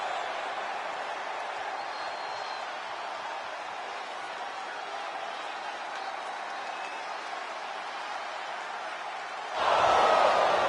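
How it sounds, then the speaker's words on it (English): A wrestling arena crowd in the WWE 2K25 video game keeps up a steady, dense murmur of disapproval that rises into a louder burst at the end. "the crowd does not agree either"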